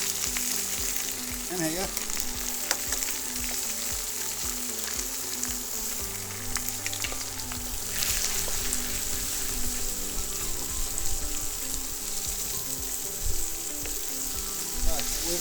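Two free-range organic eggs fry in a hot pan with a steady, loud sizzle and crackle throughout, with light utensil sounds and a brief spoken remark.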